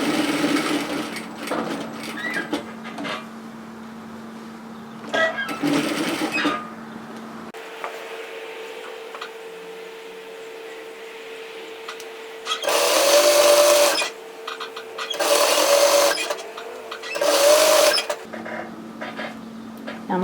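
Close-up sewing machine stitching at a cardigan's neck edge and mitre, with several short bursts of loud running separated by pauses, handling noise and a low steady hum between them.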